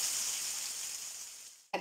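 Chopped pumpkin and bitter gourd frying in a pan for a home lunch, a bright steady sizzle that fades gradually before a short thump at the end.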